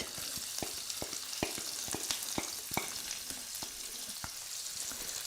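Medium-sized onion sizzling steadily in oil in a pan for a cauliflower and peas curry, with a constant bright frying hiss and regular clicks of a spoon stirring, fairly close.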